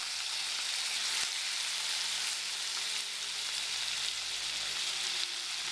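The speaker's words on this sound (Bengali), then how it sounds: "তেল গরম হয়ে গেছে, চিংড়িগুলি এবার ভেজে নিচ্ছি।" Prawns fry in about 50 grams of hot oil in a wok, giving a steady, close, even sizzle that carries on without a break and with no voices over it.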